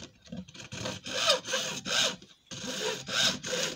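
Hand saw cutting through bamboo or PVC, rhythmic back-and-forth rasping strokes, about six close, loud strokes with a short pause midway, no talking.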